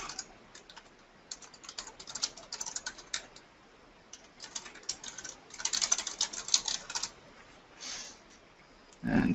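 Quick, light keystrokes on a computer keyboard in irregular bursts and short pauses, close and fairly quiet, ending with a louder thump.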